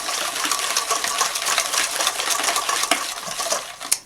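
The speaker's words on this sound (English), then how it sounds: "We're just going to stir this well until that egg is all incorporated in there" A spoon stirs egg into cheesecake cookie batter in a bowl, giving a continuous close scraping and swishing with small clinks against the bowl.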